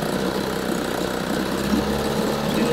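A vintage 1960 Evinrude 5.5 HP outboard engine runs steadily and close, a continuous buzzing drone with even firing and no pauses or misses, with no talking over it.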